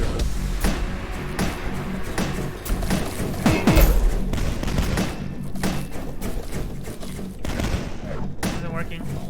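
Repeated grenade explosions and thudding blasts in the shooter DUSK, a dense chaotic barrage of booms mixed with gunfire, loud and continuous, with a voice talking over it.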